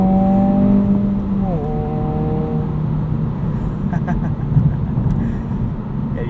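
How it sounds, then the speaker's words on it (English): 2022 Honda Civic Si accelerating hard out of a second gear hairpin: a rising engine note climbs, dips briefly on a gear change, then drones on under steady road and cabin noise, close and loud. "how this diff handles a second gear hairpin. It just rockets out of corners."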